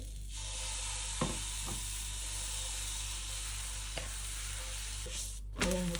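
A dosa frying on a hot pan with oil, a steady close sizzling hiss broken by a few light taps and scraping sounds, no voices.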